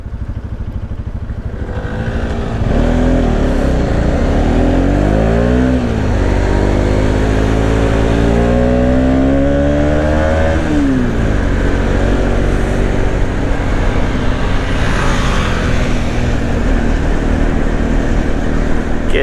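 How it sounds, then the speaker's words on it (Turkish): A Bajaj Pulsar RS200 motorcycle engine revs up and down repeatedly, its pitch climbing and falling in loud, close bursts before settling into a steady idle rumble. "Motor Pulsar bu ya, RS200."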